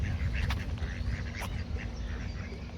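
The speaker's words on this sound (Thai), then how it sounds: "มีตะเป็ดค่ะ" Several ducks quack in short, scattered bursts over a soft outdoor rumble, fairly faint and a little distant.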